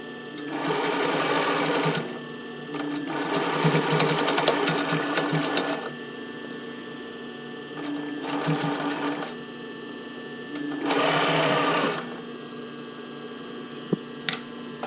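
A sewing machine stitches a bra cup overlay in several bursts of steady whirring, separated by short pauses, over a low mains hum.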